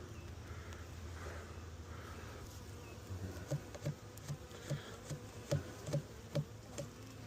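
Honeybees buzz around a hive in a steady low drone, faint and close, with a series of soft regular taps in the second half.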